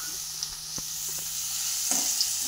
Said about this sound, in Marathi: लगेच आपण ह्याच्यामध्ये टाकून घ्यायचा आहे कांदा।